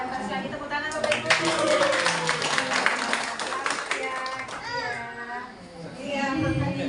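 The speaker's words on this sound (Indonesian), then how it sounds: "Tepuk tangan Bapak Ibu" Parents at a school report-card ceremony clap in a burst of applause amid children's chatter, the clapping fading as someone speaks.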